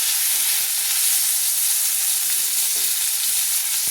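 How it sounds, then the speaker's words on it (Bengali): Pieces of rohu fish fry in hot oil in a pan, a loud, continuous bright sizzle with faint scraping and stirring sounds, steady throughout with no talk. "এইভাবে একটু লাল লাল করে ভাজা হয়ে গেলে আমি মাছগুলো তুলে নিচ্ছি"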